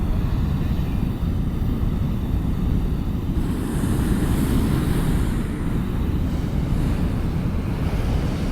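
Morning wind at the hot-air balloon site in Vang Vieng buffets the microphone as a constant, loud, low rumble, with a faint hiss rising briefly partway through.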